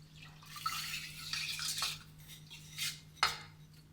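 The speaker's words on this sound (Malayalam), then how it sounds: "അപ്പോൾ കുക്കറിലേക്ക് ഞാൻ ഈ പയറൊന്ന് ചേർത്ത് കൊടുക്കുകയാണ്" Red chawli beans (mani payar) tumble into a pressure cooker in a few quick pours, giving soft metallic clatters and rattles against the pot with brief scraping at the end.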